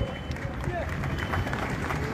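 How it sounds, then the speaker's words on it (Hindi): Loud, continuous applause from a large crowd at an Independence Day ceremony at Gandhi Maidan, Jehanabad, a dense steady roar of clapping mixed with crowd babble throughout. "एक बार जोरदार ताली दीजिए।"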